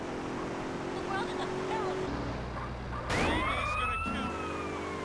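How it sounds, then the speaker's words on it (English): An ambulance siren in the video game Grand Theft Auto wails and sweeps in pitch partway through, rising sharply over rumbling vehicle and engine noise, fairly close and prominent. "This looks like the ambulance."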